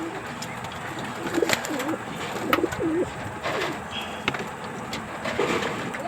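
Racing pigeons cooing nearby in a loft, several soft rolling coos repeating over a constant outdoor background hiss.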